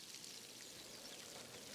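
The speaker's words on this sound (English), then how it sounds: "It's raining." Rain falling in the video game Pentiment, a faint steady hiss of dense patter, continuous and even throughout with no talking.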